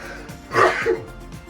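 A single sharp sneeze bursts out close by inside a fifth-wheel camper, short and forceful, followed by a brief vocal tail in a quiet room.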